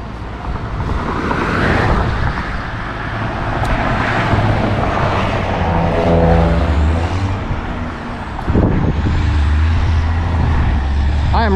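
A car cruises along Highway 55 with a steady, loud road and engine rumble and wind roar throughout, plus passing-vehicle swells, heard from inside the vehicle, with no talking.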